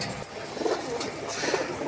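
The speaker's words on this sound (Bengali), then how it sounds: "দেখতে পাচ্ছেন এখানে এক ঝাঁক কবুতর আছে।" A flock of pigeons kept for sale, cooing softly and continuously at close range, with layered overlapping calls and no talk.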